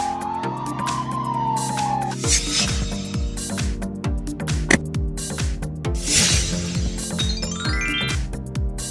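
A European police car siren wails steadily and close, with a fast repeating two-tone pattern and sweeping rises over a low engine drone, sounding alone without talk.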